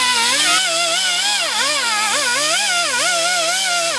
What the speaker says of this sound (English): I'm gonna go ahead and just clean this thing up with the stripping wheel.